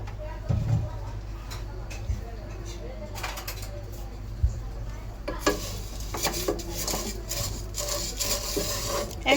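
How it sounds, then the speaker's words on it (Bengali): Vermicelli frying in ghee over medium heat, with a spoon scraping and stirring against the pan in irregular clinks and rasps over a soft sizzle. "ঘি দিয়ে আমি এখন সেমাইটা ভেজে নিচ্ছি"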